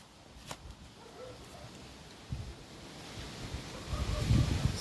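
Outdoor wind in a garden while planting hydrangea cuttings buffets the microphone in gusts, rustling and rumbling faintly at first and growing stronger toward the end, with no one speaking.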